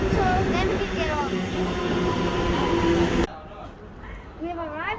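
A train rumbles into North Richmond station, loud and close with rail clatter and a faint squeal, then it drops sharply quieter as it slows, and voices speak over it.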